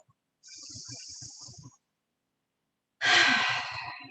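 Deep breathing during a yoga practice: one long, airy breath, a pause of about a second, then a stronger, fuller breath, close and clear in an otherwise quiet room, with no talking.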